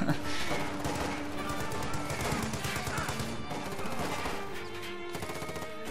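A grenade blast and dense gunfire in a World War II strategy video game. Rapid bursts of shooting and crashing impacts continue throughout, and commentary runs underneath.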